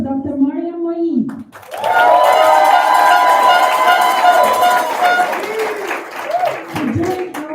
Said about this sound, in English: Let's give a warm round of applause for Dr.